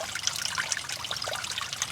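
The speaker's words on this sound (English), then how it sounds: "All that water there that you can see is coming out of the French drain." Water flows out of a French drain pipe on wet farmland dug with a mini excavator, a close, continuous splashing trickle with bright bubbling, no voices.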